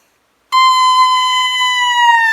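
An oboe reed tone blown with the lips rolled outward and forward, a single steady reedy note that starts abruptly and holds for about two seconds, its pitch sagging slightly as it goes, loud and close with no talk.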